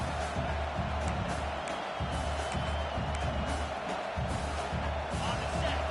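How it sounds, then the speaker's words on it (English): A stadium crowd at a college football game, FIU vs Auburn, roars continuously during a fourth-down play, a dense loud wall of cheering with whoops and claps and no let-up. "This crowd busting the decibel meter and trying to will a fourth down stop."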